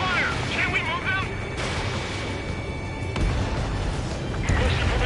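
Gunfire and explosions striking radar vehicles in the video game Ace Combat 7, a dense continuous rumble of blasts and shots under radio voices.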